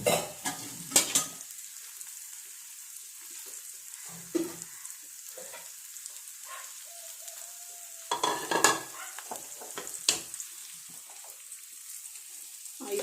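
Jackfruit pieces frying in oil for biryani, pushed toward the middle of the pan, with a low sizzle broken by a few bursts of stirring and scraping separated by quieter stretches.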